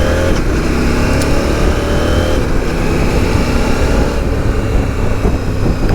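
A CFMOTO 800 MT Explore motorcycle accelerates hard with its quickshifter, a loud, close engine roar with wind noise and brief breaks in the pull as gears change.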